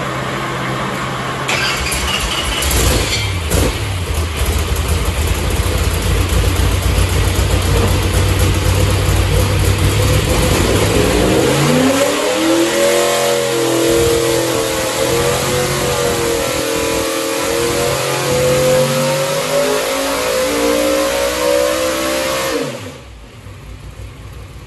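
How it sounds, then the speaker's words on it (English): Ford 311ci small-block V8 on a dyno, roaring loud and close at sustained high revs. The engine note then sweeps upward under load in a long pull before cutting off sharply near the end, with no talking. "So are you guys ready to hear the dyno video?"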